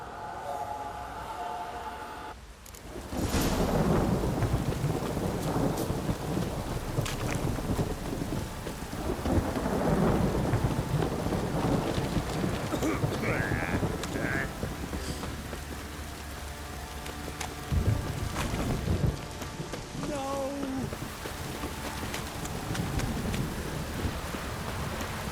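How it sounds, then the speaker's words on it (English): Heavy rain pours steadily in the video game The Witcher 3: Wild Hunt, with deep rolling thunder rumbling beneath a dense wash of downpour that holds loud and continuous throughout. "This downpour's a bastard, it is."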